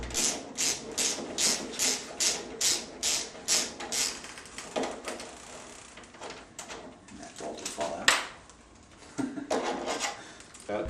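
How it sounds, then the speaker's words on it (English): A 6mm Allen wrench loosening the single tank bolt on a BMW R motorcycle: a quick run of rhythmic close-up rasping ratchet-like strokes, then slower scattered scrapes and clicks, with no talk. "you'll use a 6mm Allen wrench to remove the single bolt that holds the"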